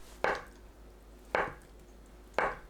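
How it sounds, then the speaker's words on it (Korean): A knife slices tofu into bite-size pieces on a cutting board while doenjang soup is being prepared. Three crisp, close chops land about a second apart against a quiet room, with no talking. "두부를 한입 크기로 썰어주세요"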